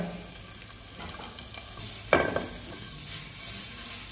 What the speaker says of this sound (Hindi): ये देखिए अंडे शामिल करने के बाद आपने कम से कम 2 से 3 मिनट तक इनको फ्राई होने के लिए छोड़ देना है।